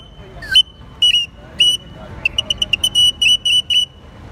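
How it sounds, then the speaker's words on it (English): A small ocarina gives short, bright whistling notes, a few spaced tones and then a quick run of rapid repeated ones, played close by in an outdoor downtown square in Morelia, Mexico. "This is a small ocarina."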